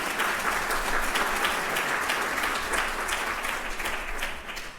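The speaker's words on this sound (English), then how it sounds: "let's please give them a round of applause" A live audience at a keynote event applauds ASL interpreters, a dense, sustained wash of many hands clapping that holds steady for several seconds before tapering slightly at the end.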